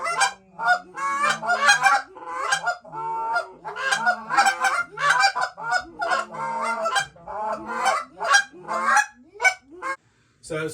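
Goose calls imitate a flock with a rapid, continuous run of honks, clucks and low moans, layered and overlapping, loud and close, with a brief pause near the end.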